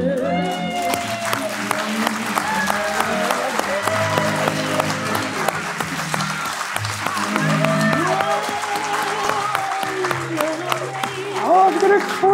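Audience at a design event applauding: dense, continuous clapping from a crowd that stays full and steady throughout, with voices mixed in over it.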